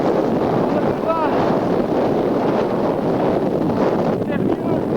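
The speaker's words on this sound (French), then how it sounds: "Le vent quand même souffle." Strong wind blowing in the Alps during a solo trip, a loud continuous roar with heavy gusting and buffeting against the microphone throughout.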